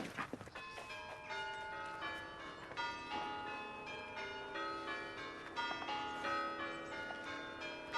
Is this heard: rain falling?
no